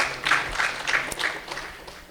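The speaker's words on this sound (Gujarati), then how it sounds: "આપણે કમરસિંહભાઈને પણ તાળીઓથી વધાવીએ" Light audience applause at a religious gathering, a small group clapping in soft, uneven bursts at moderate distance that taper off.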